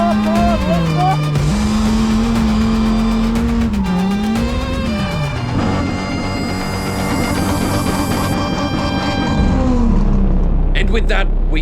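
A car drifts around a drift track, its engine revving and wavering through repeated throttle bursts while tires squeal, loud and continuous, with voices talking over the action.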